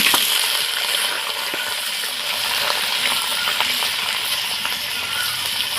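Potatoes fry in hot oil in a wok, giving a steady close sizzle with scattered crackles and pops throughout.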